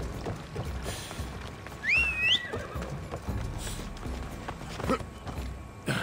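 A horse in the video game Assassin's Creed Odyssey gives a clear whinny partway through, alongside steady clip-clopping hooves, with game ambience in the background.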